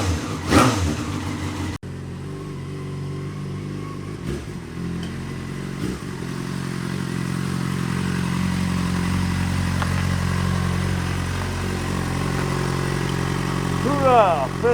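A Yamaha FZ6 motorcycle engine runs close by, revving with the throttle then settling into a steady idle, with a few more revs near the end and people talking over it.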